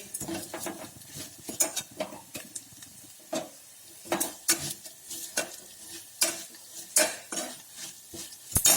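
Hot mango neergojju takes a sizzling tempering, followed by a spoon stirring and clinking against the pot in irregular, close scrapes and taps with a soft frying hiss underneath; no speech.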